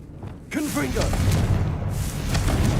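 Confringo fire spell blast in Hogwarts Legacy on PC: a whooshing, rumbling burst starts about half a second in and holds steady as a low roar, with a voice over it.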